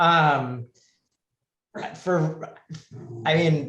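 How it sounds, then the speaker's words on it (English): A dog barks and yips close by indoors in a few short bursts, mixed in with someone speaking before and after. "that's my dog."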